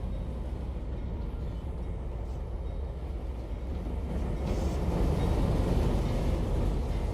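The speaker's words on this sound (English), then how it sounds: "This is a maintenance train that just pulled into the yard." Maintenance train hauling dead-in-tow F units rolling into a rail yard in a train simulator, a continuous low rumble of wheels and engine that swells slightly louder toward the end, with no voices.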